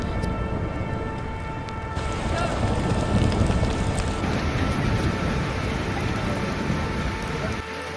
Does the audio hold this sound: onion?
no